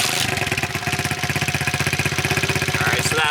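A Lifan 125cc 12-volt engine swapped into a Honda CT70 Dax mini trail bike catches after a gentle kick and idles steadily, its single-cylinder exhaust beating in a fast, even putter close to the microphone.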